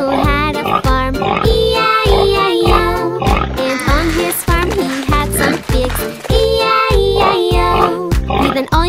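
Pig oinks sound within the Old MacDonald nursery rhyme, voiced in imitation against a bouncy, loud children's-song backing with singing throughout.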